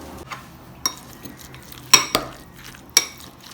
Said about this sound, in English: Let's take the grated coconut and the jaggery and mix them together